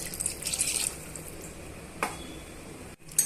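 Water poured into rice for chicken biryani, a soft, faint splashing and trickle that is strongest in the first second, then fades to a quiet hiss with a brief drip near the end.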